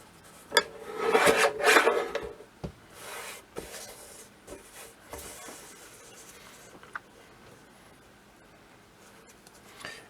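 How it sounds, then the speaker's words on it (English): A sharp blade trims tape with a few close, dry rasping scrapes early on, followed by quieter, sporadic cuts and light handling clicks. "I'm just going to trim the tape"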